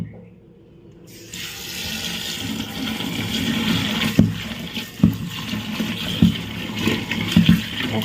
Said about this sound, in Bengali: আর এই যে গতকালকে যে শাকটাকে কেটে রেখেছিলাম এটাকে এখন ভালো করে ধুয়ে নেবো